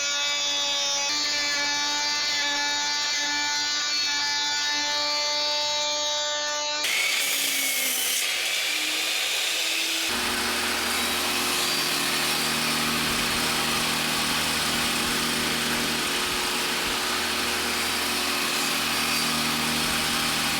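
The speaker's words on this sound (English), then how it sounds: "now we go to do sanding." A steady, loud whir of a power sander running continuously against scroll-saw-cut wood pieces, with a tonal hum at the start giving way to broadband abrasive noise.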